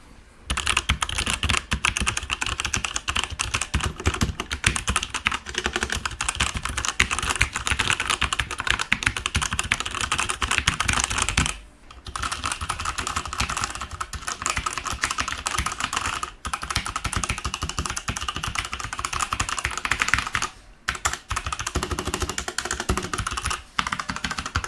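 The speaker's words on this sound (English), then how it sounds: "we'll do a quick keyboard sound test." Continuous, rapid clacking of typing on a Sahara R20 tenkeyless mechanical keyboard with swappable Outemu switches, close and steady with a few brief pauses.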